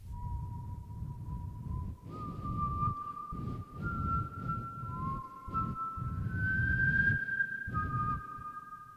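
A girl whistles a Christmas tune solo, a clear, sustained melody of long held notes that step between pitches, with soft breathy background noise underneath.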